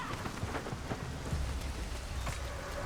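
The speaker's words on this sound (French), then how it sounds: "Voilà, on a la cour, il pleut." Rain falling steadily in a courtyard in the video game Nioh, a dense, even hiss of drops with soft patter and no talking.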